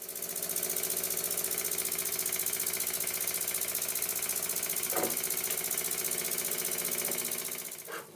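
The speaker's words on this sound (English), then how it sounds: "Here's a clip of the engine running using compressed air" A small old toy steam engine running on compressed air chugs steadily with a fast, even mechanical rhythm, running continuously at close range with a couple of brief clicks near the end.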